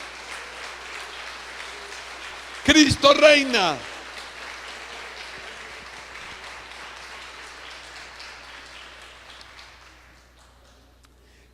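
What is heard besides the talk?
applause for Christ Jesus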